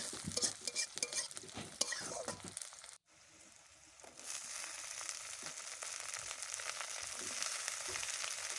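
Onion and green chili frying in a tempering of oil, with a steady close sizzle broken by stirring clatter, a brief dip near the middle, then a continuous hiss for the rest.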